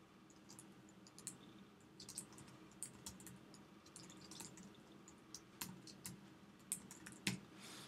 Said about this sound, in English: So I'm going to type our title in the top box.